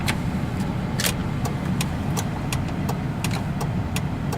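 A 1997 Lincoln's engine idles in park with a steady, loud low rumble up close, while faint, irregular ticks and clicks sound over it and no one speaks.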